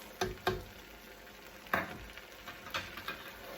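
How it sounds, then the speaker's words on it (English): Broth is stirred into risotto rice in a pan, heard as soft, intermittent scraping and wet stirring strokes with a faint simmering sizzle underneath, fairly quiet and close. "Stir it in."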